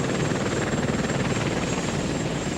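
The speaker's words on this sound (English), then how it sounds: "8 Apache helicopters laden with Hellfire missiles took off towards Iraq" Steady, loud rotor and engine roar of Apache helicopters taking off at night, continuous throughout with a dense low thrum and a high whine.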